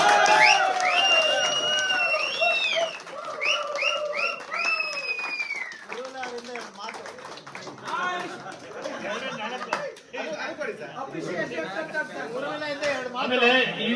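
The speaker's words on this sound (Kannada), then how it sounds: "ಜೋರಾಗಿ ಒಂದು ಚಪ್ಪಾಳೆ ಬರಲಿ." At a Lions Club gathering for a motorcycle riding team, a crowd applauds and cheers, while excited voices, whoops and overlapping chatter rise over the clapping throughout.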